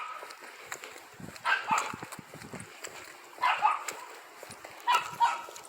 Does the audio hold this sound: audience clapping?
no